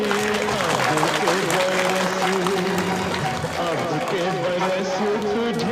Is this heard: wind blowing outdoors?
no